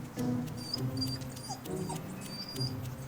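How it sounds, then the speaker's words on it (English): A guard dog in a towing yard whimpers and whines close by, giving several short, high-pitched yelps and squeaky cries over a few seconds with a low mechanical rumble underneath. "If the guard dog will let him get rigged up."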